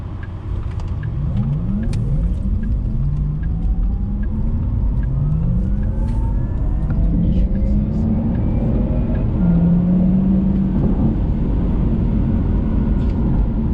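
A 2021 Porsche Taycan 4S electric sports car pulling away under launch control, rising motor whine sweeping upward repeatedly over heavy road and wind rumble, heard from inside the cabin, loud and sustained.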